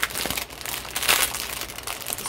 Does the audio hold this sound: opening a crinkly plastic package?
yes